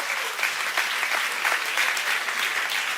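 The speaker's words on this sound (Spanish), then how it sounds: "Un fuerte aplauso a ustedes mismos ahí donde están." A congregation at a Christmas service claps together in steady, full applause, a thick wash of many hands continuing throughout.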